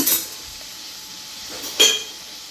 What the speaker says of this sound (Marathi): ठीक आता याला झाकण ठेवूया ह्याच्यावर आपण शिजवून घेऊया